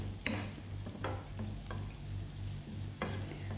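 Onions, chili powder and curry leaves stirred in a hot pan, a low steady sizzle with a few spoon scrapes and taps spaced through the moment, fairly quiet and close.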